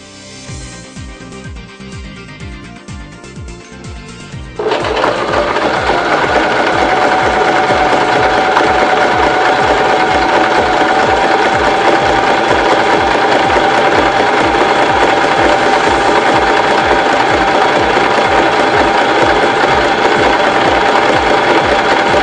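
A Janome 1117S sewing machine stitches a zigzag seam, its needle mechanism starting after a few seconds of quieter whirring, then running in a steady, loud, fast rhythmic clatter that continues alone to the end.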